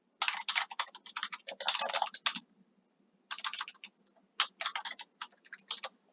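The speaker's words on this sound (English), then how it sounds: "So I'm just going to type a little bit." Fingers tap quickly on a computer keyboard in bursts of crisp clicks, pausing briefly between runs, close and fairly quiet with no talking.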